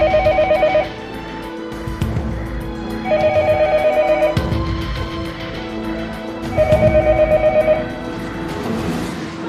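A landline telephone bell rings in three separate bursts of trilling, each about a second long with short pauses between them. It sounds loud and close, and nobody speaks.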